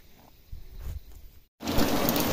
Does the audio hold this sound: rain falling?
yes